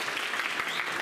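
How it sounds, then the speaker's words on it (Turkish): Brief burst of dense, steady audience applause at an award gathering for a children's painting competition in Malatya, loud and continuous. "Öncelikle alkışlayalım onları."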